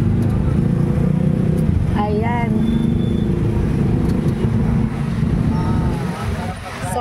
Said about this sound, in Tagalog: This is a Filipino traffic.